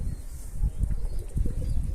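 Pigeons cooing in a coop or yard, soft low throaty pulses repeating in a few bursts with some rustling, fairly close.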